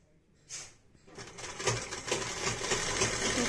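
A sewing machine stitches a fabric pocket for capri pants, starting after a quiet moment with a short burst, then settling into a steady, close whirring run that builds slightly in level.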